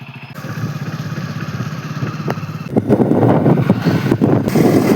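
A new motorcycle on the move, its engine a steady droning rumble mixed with heavy wind buffeting against the microphone that grows louder and rougher partway through.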